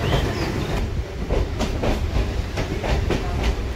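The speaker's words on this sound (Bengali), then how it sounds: "এখন কিন্তু আমাদের ট্রেন শোভাবাজার স্টেশনে কিন্তু ঢুকছে" A Kolkata Circular Rail local train rolls into Sovabazar Ahiritola station, its wheels beating a loud, close, rhythmic clickety-clack over the rail joints beneath a continuous rumble.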